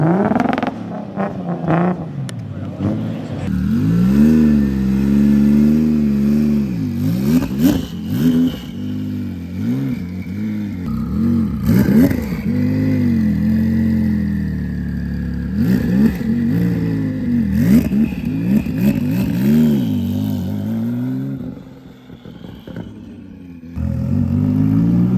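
Exotic hypercar engine revving hard at a car show opening in Raleigh, loud and close, with repeated throttle blips and sustained high revs, rising and falling over about twenty-five seconds.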